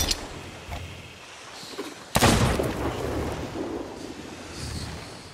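A single muffled gunshot from a pirate's gun fired underwater in Sea of Thieves, a sharp thump with a rumbling, washy tail over a low watery ambience, fairly faint and without talk.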